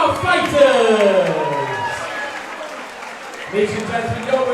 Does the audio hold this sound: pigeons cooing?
no